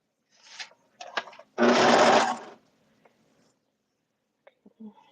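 Sewing machine stitching the final inseam of a suit: short mechanical bursts, then one longer steady run of stitching close by, with faint handling noises after in a quiet room.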